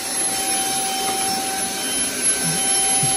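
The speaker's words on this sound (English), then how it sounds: "So this vacuum is supposed to leave your house sparkling clean." A Beldray roller vacuum cleaner runs steadily at close range, giving a continuous loud motor whine and airflow hiss with a few thin tonal lines and only slight wavering.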